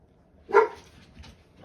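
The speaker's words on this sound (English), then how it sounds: "my dog Arrow likes this part" A single dog bark or yip rises at mid-distance, moderately loud and brief, then fades into quiet room sound with a faint second trace.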